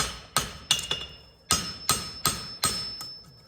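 Hammer blows forging a small knife blade meant for an antler handle, about seven sharp metallic strikes with ringing overtones, spaced irregularly and loud, with no talking.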